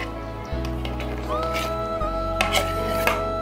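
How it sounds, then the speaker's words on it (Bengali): Chopped fruit is tipped into a bowl of milky sago dessert, giving close, soft clinks and taps of a spoon against the bowl over a low steady hum. "এবার কেটে রাখা সবগুলো ফল এই ডেজার্টে দিয়ে দিচ্ছি।"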